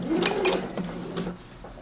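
Sewing machine running a short burst of top stitching along a folded fabric hem, a steady mechanical whir close up that slows and stops near the end, no talking.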